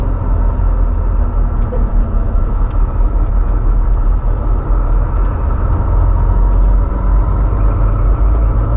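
A truck travels along a road in Colorado, its steady low engine rumble and road noise loud and continuous throughout, with no talking.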